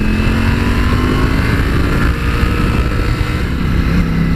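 A Ducati Panigale V4S motorcycle of just over 200 horsepower rides past, its engine a loud, continuous, close roar that holds steady for several seconds.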